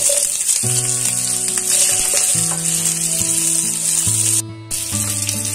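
Chopped onions, added after grated ginger, fry in a pan over a medium flame, giving a steady, loud sizzle throughout with melodic background music layered over it and a brief dip near the end.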